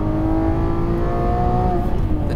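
A Lamborghini Aventador Ultimae engine drones steadily from inside the cabin with a deep, loud tone that rises slightly in pitch while cornering, continuous throughout with no speech.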